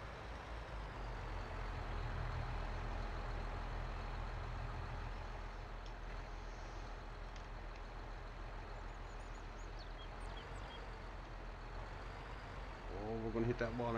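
A tractor engine drones steadily while pulling a big trailer in Farming Simulator 22, a constant low rumble throughout, with a voice talking over it and a brief rise in level at the very end.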